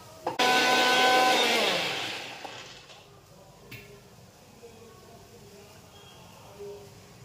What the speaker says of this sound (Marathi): आणि आता मी वाटून घेते.